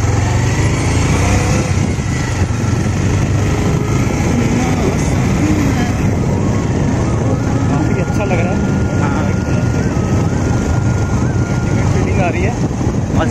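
Bajaj Pulsar motorcycle engine drones loud and steady while riding along a hilly road, with wind roar mixed in and a voice talking over it.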